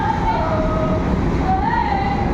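A train rumbles on a bridge overhead as a boat passes beneath Howrah Bridge on the Ganges, producing a continuous loud low roar with faint squealing tones, steady throughout.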